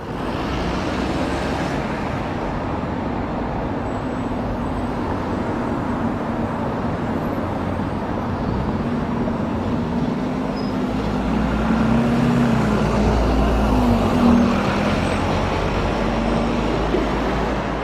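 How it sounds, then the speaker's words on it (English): Double-decker bus VN 37962 pulls away from Brent Cross on route 266, a steady loud engine rumble rising slightly toward the end amid constant roadway traffic noise. "VN 37962 leaves Brent Cross on the 266 working to Hammersmith"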